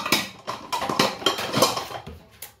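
Crisp, crunchy cuts as a knife slices through a fresh apple, with about six separate bursts spaced roughly half a second apart, sounding close and fairly loud, with no talking.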